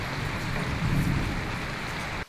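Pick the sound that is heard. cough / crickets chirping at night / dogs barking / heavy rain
heavy rain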